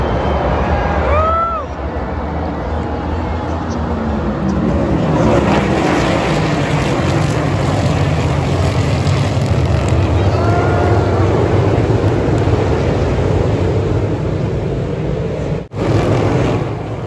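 NASCAR race cars lapping the track at COTA, a continuous distant engine drone with a couple of rising and falling passes, loud and steady against open-air background noise.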